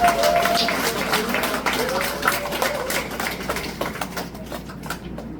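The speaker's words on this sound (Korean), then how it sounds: "여러분 다시 한번 큰 박수로 두 분을 환영해 주시기 바랍니다" An audience at a political talk event in Cheongju claps loudly to welcome two guests, a dense burst of applause that gradually thins and fades toward the end, with voices mixed in.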